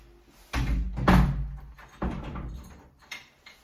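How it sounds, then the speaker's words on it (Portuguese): A door opens indoors with a heavy thump and creaking swing, followed by a second bump and a lighter knock as it settles, fairly close and loud with no talking. "a porta abriu"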